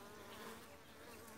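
Honeybees at the hive of a weak colony, restless and stressed, give off a dense, continuous buzz that is steady but faint throughout.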